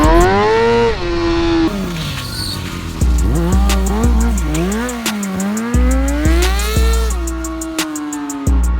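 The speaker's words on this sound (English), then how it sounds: "I'm going to do something like 180, 360, it's just like drift" Motorcycle spinning in a 180 or 360 drift under heavy throttle, its engine revving hard and wavering in pitch with repeated surges and brief drops, loud and close throughout.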